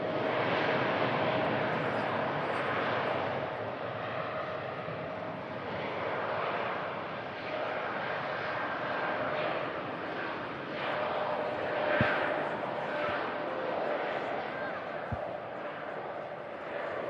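An airliner takes off down the runway, its engine roar a steady, broad rush that holds for the whole stretch and swells slightly near the middle, with faint murmuring voices in the background.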